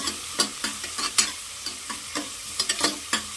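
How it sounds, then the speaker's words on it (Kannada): Onions frying in a pan, a soft continuous sizzle broken by about a dozen sharp stirring scrapes and spatula taps in an uneven rhythm, close by and with no voices. "ಈರುಳ್ಳಿ ಚೆನ್ನಾಗಿ ಫ್ರೈ ಮಾಡ್ಕೊಳ್ಬೇಕು"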